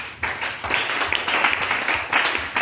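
A congregation applauding in church makes loud, sustained clapping from many hands at close range, swelling in waves throughout.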